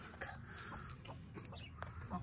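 An Aseel hen, broody and sitting on eggs, gives a few soft clucks close by, and faint voices and scuffling noises can be heard around it.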